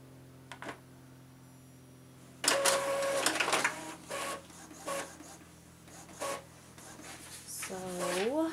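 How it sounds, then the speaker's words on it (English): An Epson EcoTank ET-2800 inkjet printer prints an alignment page, its print head making repeated short rubbing, scraping passes in bursts, near and moderately loud, with faint motor whines between. "now we're printing something else. I guess this is how it aligns."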